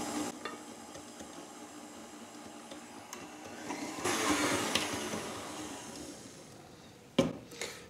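An egg is beaten into a creamed butter-and-sugar cookie dough with an electric mixer, a steady low whirring and churning hum that swells louder midway, then ends with a sharp knock.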